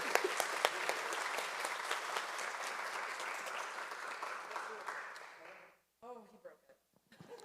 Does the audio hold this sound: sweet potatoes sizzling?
no